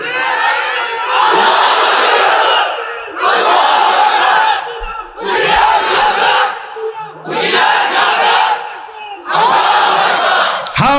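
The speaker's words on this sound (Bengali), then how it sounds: "এবার দাও তাকবীর" At an Islamic waz sermon gathering, a large crowd roars takbir in unison, five loud, rhythmic chanted bursts separated by short pauses.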